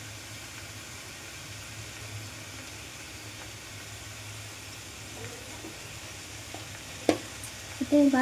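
A chicken stew with papaya, carrot, potato and beans simmers and sizzles steadily in a pan while being stirred. Low, continuous frying noise runs throughout, and a voice speaks briefly near the end.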